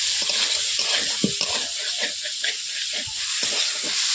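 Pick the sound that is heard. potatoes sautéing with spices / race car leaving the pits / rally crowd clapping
potatoes sautéing with spices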